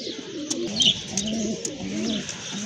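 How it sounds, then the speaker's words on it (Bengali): A pair of pigeons of an uncommon colour coo softly and close by in short rolling phrases, with light rustling and no talking. "দেখতে পাচ্ছেন আর এক জোড়া কবুতর"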